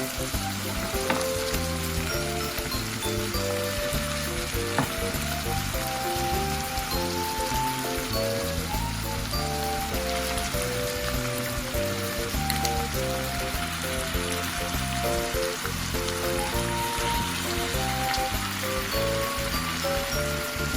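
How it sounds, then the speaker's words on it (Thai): Pickled mustard greens with bean sprouts, northern Thai style, sizzle steadily as they are stir-fried in a pan. The frying hiss runs continuously, with occasional scrapes of stirring underneath. "ตอนนี้นะคะ เราก็ ผัดผักกาดดองนะคะ"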